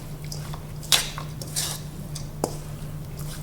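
Tabbouleh salad being mixed in a bowl: soft wet squishing and stirring with occasional light clinks of a utensil against the bowl, one sharper knock, all fairly quiet over a low steady hum.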